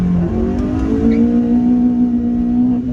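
Honda-built engine in a 1990s Rover Coupe revs steadily close by, a loud, sustained mechanical drone that rises slightly in pitch and holds without pause.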